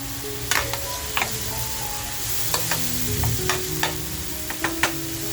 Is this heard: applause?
no